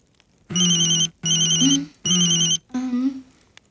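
A synthetic phone ringtone plays loud and close, three even tonal bursts with short pauses, then a fourth warbling phrase.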